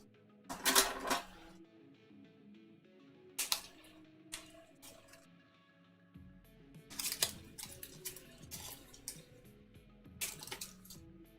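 Short hissing bursts from a spray can painting a leaf on a sculpted skull Halloween headpiece come in several sharp blasts, separated by quieter pauses with faint background clatter.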